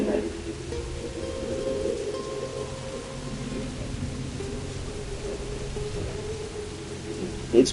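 Steady pouring rain hisses over Havana in the video game Assassin's Creed Black Flag, a constant low wash with faint rumbling and a soft hum beneath, with a brief bump near the end.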